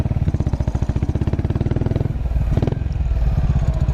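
A Buell Blast motorcycle's single-cylinder engine running close by, a loud rapid thumping pulse that holds steady, then softens and wavers briefly before settling back into a lower, smoother idle.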